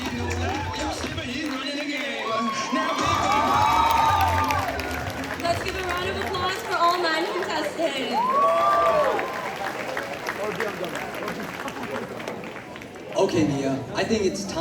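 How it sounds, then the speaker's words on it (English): Applause and crowd noise at a high school pageant continue for several seconds, a broad clapping texture with chatter and an amplified announcer speaking over it. "Let's give a round of applause"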